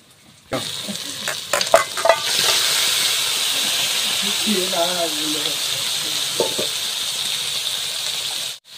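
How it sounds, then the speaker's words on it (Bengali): Duck meat dropped into hot oil with fried-down spices for a village-style duck curry, bursting into a loud, close sizzle and hiss that holds steady, with a few clatters at the start and faint voices partly beneath. "তেলটা কষা করা হয়ে গিয়েছে, এবার মাংসটা দিয়ে দিচ্ছি।"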